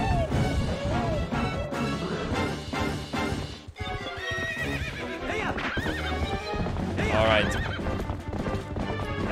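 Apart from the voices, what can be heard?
horse neighing and galloping, from the video game Zelda: Twilight Princess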